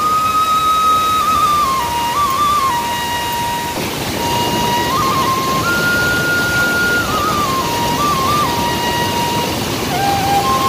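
Sirki waterfall near Pasighat in East Siang, Arunachal Pradesh, roars loudly and steadily throughout, with thin high whistling tones drifting over the rushing water.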